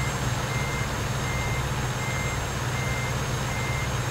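Reversing beeps from a van in American Truck Simulator, a steady tone riding over constant low truck engine rumble throughout, with no talk.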